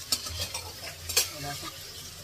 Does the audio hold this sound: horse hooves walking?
no